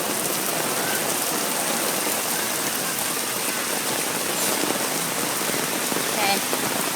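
Heavy rain pours steadily onto a Beijing street and puddles, a dense, continuous hiss of drops with no pauses, close and loud throughout.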